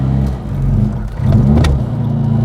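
A 1973 Wood & Pickett Margrave Mini drives on the road, its engine a steady, loud, close drone that swells briefly as it picks up under acceleration, with no one talking.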